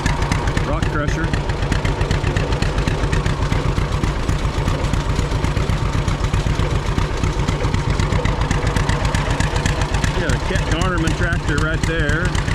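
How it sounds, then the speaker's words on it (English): Antique rock crusher running at a threshermen's show of old engines and tractors, a steady rapid chugging engine beat with metallic clatter, loud and continuous throughout. "Rock crusher."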